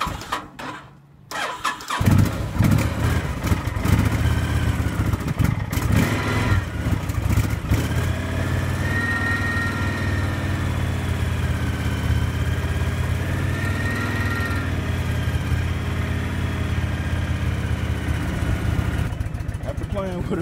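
An older vehicle with a fuel enricher rather than a choke cranks briefly, then fires and settles into a steady, loud idle that runs close by for the rest of the clip, with bursts of revving and people talking over it.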